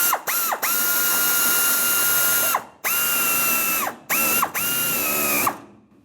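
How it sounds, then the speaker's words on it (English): A hand ratchet with an 8mm socket snugging a fuel filler neck bracket clamp on a 1992-1996 Ford F-150, three or four bursts of rapid close clicking separated by short pauses. "Now with my 8mm socket or 5/16, I'm going to snug up the bracket clamp."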